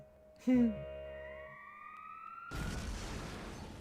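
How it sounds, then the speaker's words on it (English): A police siren inside the Fate/Grand Order video game, a sharp tonal alert followed by long rising wailing tones, then a dense rushing noise swells in and holds, moderately loud with no talk. "That's the sound of the police."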